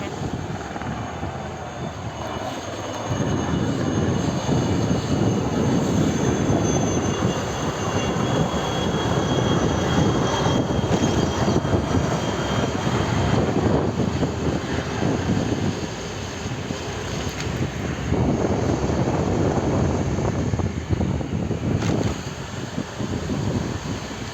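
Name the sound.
helicopters flying overhead in the morning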